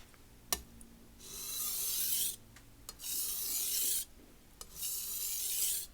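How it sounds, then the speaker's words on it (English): A Santoku knife scrapes along a sharpening stone in three long, even strokes, each a close, steady gritty rasp separated by brief pauses and light taps as the blade is repositioned. "Okay, so now I'll do 3 strokes on each side."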